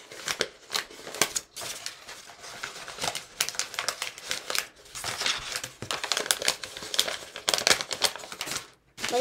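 Folded origami paper for a wasp model is scrunched and pressed together by hand, giving dense, close crinkling and crackling that keeps going in irregular bursts with brief pauses, with no talk.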